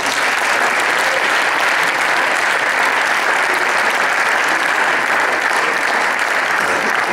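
An audience at the closing ceremony of the European team padel championships gives sustained applause, a dense, even wash of many hands clapping at once, loud and continuous without pauses.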